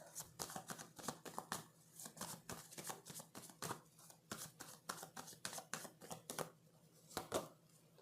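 Tarot cards shuffled by hand in rapid, continuous riffling bursts, a dense run of crisp papery flutters and slaps close to the mic, with no speech.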